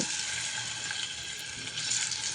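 Spice-coated rohu fish fries in a hot pan with a steady, fairly quiet sizzling hiss and soft crackles throughout. No one speaks.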